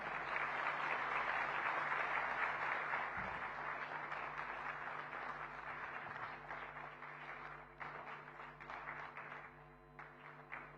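Sustained audience applause follows the Maharashtra Chief Minister's speech at the Indo-American Chamber of Commerce national convention, a dense steady clapping of a large hall crowd that slowly thins toward the end, with no talk over it.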